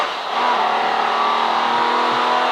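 A V12 race car engine howls around Silverstone during a CSCC Modern & Future Classics race, a loud, sustained high-pitched scream held steady at speed, heard close with no talk.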